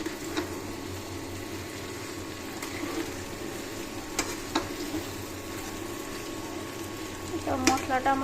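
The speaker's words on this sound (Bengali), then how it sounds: "সব কাঁঠালটা ভালো মতো কষাতে হবে যাতে মশলাটা ভিতরে ঢুকে" Jackfruit curry and its spices sizzle and fry in a pan as they are stirred. The sizzle is soft and continuous, with a few sharp scrapes and clinks, and a bubbling burst near the end.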